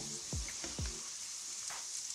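Grated carrots, almonds, raisins and dried dates fry softly in oil, a quiet continuous sizzle broken by a few brief stirring knocks near the start.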